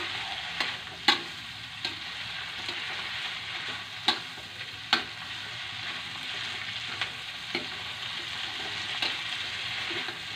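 Bean sprouts stir-fried with small anchovies and sliced kaffir lime leaves sizzle steadily in a hot pan, with occasional sharp clacks and scrapes of the spatula stirring. No one speaks.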